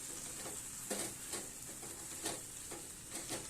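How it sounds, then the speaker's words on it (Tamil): Mint leaves stirred and sautéed in a pan over a medium flame, a steady hiss of frying broken by a few soft scraping strokes of the spoon at irregular intervals. "ஸ்டவ்வை மீடியமாக வச்சு நல்லா இந்த மாதிரி திருப்பி விடுங்க"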